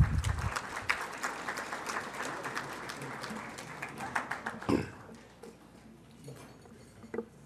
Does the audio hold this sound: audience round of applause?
yes